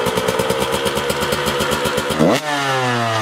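A motorcycle engine fires up, first cranking and sputtering in a fast steady rhythm, then catching and settling into a loud, rising idle close by.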